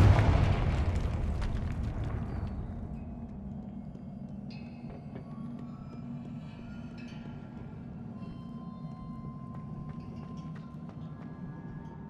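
A Confringo fire spell in Hogwarts Legacy erupts in a loud, close explosion. It decays into a long, low rumble that lingers with faint crackling debris for several seconds.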